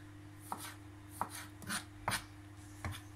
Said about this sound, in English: Just slice them into nice, like thin slices.